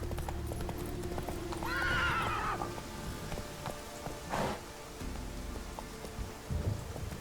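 Hooves of the horse Roach clip-clop steadily in The Witcher 3, with a loud whinny partway through and rain and distant thunder behind, near and continuous.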